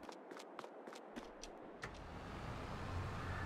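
A Massey Ferguson tractor in Farming Simulator 22 starts with a few clicks and footsteps, then its engine settles into a steady, rising low drone, driving alone with no talk.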